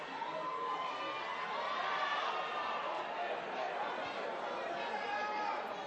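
Football stadium crowd at a Concacaf Nations League match between Guadeloupe and Cayman Islands, a steady broad roar of chatter and shouting that swells slightly, with a commentator talking over it.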